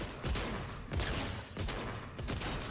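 Rapid bursts of gunfire in a Fortnite match, several sharp reports spaced across a couple of seconds amid busy game noise, with players' voices briefly in the mix.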